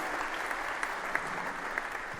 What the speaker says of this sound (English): Let's give them a big round of applause and thank you for bringing this match